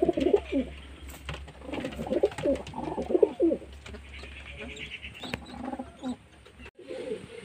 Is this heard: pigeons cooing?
yes